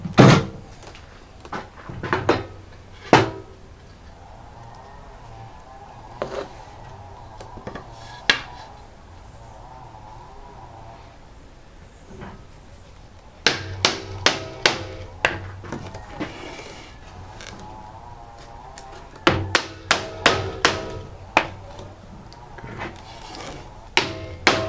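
A cabinet door part is tapped into place with sharp, knocking hits in irregular bursts: a few early taps, a quieter stretch, then two dense clusters of rapid strikes over a faint background hum.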